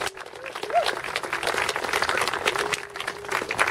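An outdoor crowd claps at a mural unveiling in Allan Gardens, Toronto, with dense, steady applause lasting the whole few seconds and a voice briefly audible within it.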